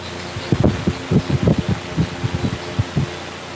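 An electric room fan, just repaired, runs with a steady soft rush of air and a faint pulsing low thump that repeats irregularly, heard close with no voices.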